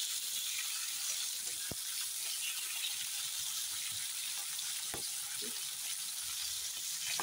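Rohu fish pieces fry in hot oil with a steady, even sizzle that runs throughout, and a few faint clicks stand out above the hiss.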